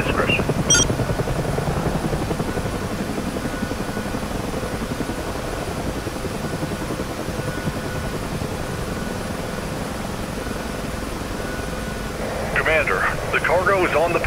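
A UH-1H Huey helicopter engine starting up in a flight-simulation cockpit: a steady whining rumble builds and holds throughout, with brief higher-pitched tones and radio chatter at the start and end.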